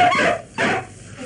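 Dogs bark twice outdoors on a foggy night, two loud, separate barks close by, with a short pause between them and no voices over them.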